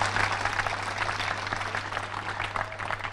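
An audience claps at a peace talk, a dense, even patter of many hands that holds steady throughout, fairly loud, with a low steady hum underneath and no speech.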